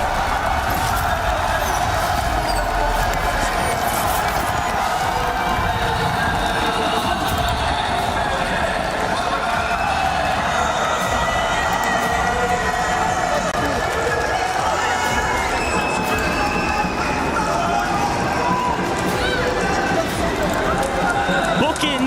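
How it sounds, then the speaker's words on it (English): A large esports tournament crowd at a Warzone event roars and cheers continuously, a dense loud wash of voices sustained without a break, with a commentator's talk woven through it. "you can hear the crowd"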